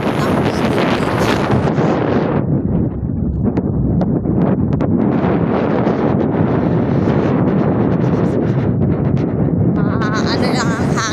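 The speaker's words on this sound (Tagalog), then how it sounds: "Malakas ang hangin." Strong wind buffets the microphone at Pili Beach in Tablas, Romblon, a constant loud roar and rumble throughout with faint voices underneath.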